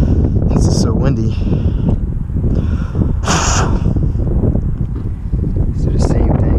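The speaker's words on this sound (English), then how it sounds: "This is so windy." Heavy wind blasts the microphone outdoors during a brake wear harness repair on a 2009 Volkswagen Jetta, a dense steady rumble with rustling bursts, and a voice talks over it.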